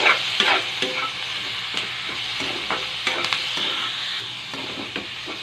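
Meat sizzles in hot oil with garlic and onion in a pan, a steady crackling fry broken by scraping stirs of a spatula, close and alone with no talking.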